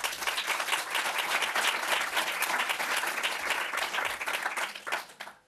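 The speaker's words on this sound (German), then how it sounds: "Dafür schon mal einen herzlichen Applaus." An audience at a lecture applauds warmly, dense clapping that holds steady for several seconds, then thins out and fades at the end.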